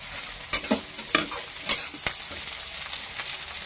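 Tomatoes and green chillies hit frying onions for a fish jhal, sending up a bright sizzle with a few quick metallic scrapes and clinks of stirring early on, then a settled crackle.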